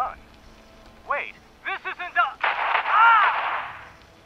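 Gunfire in the video game Fallout 76: after a few short voiced calls, a dense, noisy burst of shots erupts and rolls on for nearly two seconds, loud and close.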